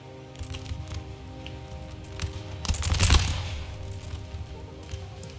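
Musket volleys crackle across a battlefield in Empire: Total War, a dense ragged burst of gunfire swelling to a loud peak midway, then thinning into scattered distant shots over a steady low rumble.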